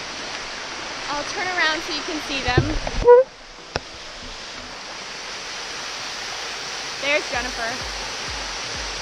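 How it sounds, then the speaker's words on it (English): Flowing water at the Sticky Waterfalls in Chiang Mai, a mineral-coated cascade, makes a steady broadband rush throughout, with a person talking over it partway through. "So these waterfalls have like mineral deposits, so you can climb up them, up through the waterfall."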